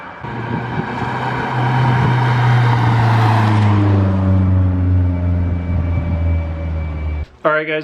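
A Mazdaspeed 3 with its resonator deleted drives past outside, a loud rising exhaust drone that peaks close by and then fades with a falling pitch, ending with a sudden cut to handling noise.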